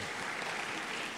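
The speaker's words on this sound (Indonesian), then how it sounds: "Jadi tepuk tangan untuk student." An audience at a university sharing session applauds a student, a steady dense wash of clapping heard alone for about a second.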